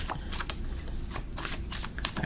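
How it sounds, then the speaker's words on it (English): A deck of tarot cards is loosely shuffled by hand, a steady close riffling and sliding of card stock with soft slaps, continuous throughout with no voices. "I'm just kind of lazy shuffling."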